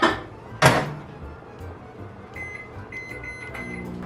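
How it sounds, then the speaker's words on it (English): A kitchen microwave oven scalding milk: a door thunks shut, then buttons beep and the oven starts its steady hum, heard alone and close. "I'm going to just scald it in the microwave real quick"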